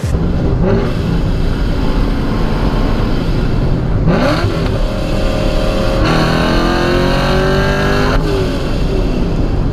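A boosted Corvette pulls hard in third gear on the interstate, its loud engine roar climbing steadily in pitch through a continuous, close-miked acceleration with heavy wind and road noise underneath.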